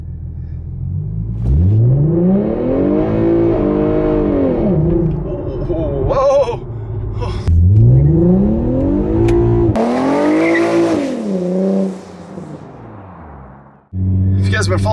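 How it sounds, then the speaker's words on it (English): An Infiniti Q50 fitted with a Z1 Motorsports rear differential bushing and a Traction Concepts limited-slip differential kit launches, its engine revving up loud and close in repeated rising surges, with some tire noise between them. "I'm a little bit afraid to launch the car"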